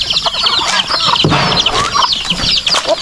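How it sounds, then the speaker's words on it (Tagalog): A busy flock of free-range farm chickens clucking and squawking up close indoors, a dense, continuous chatter of overlapping calls. "May mga manok tayo sa labas, meron din tayo manok dito sa loob."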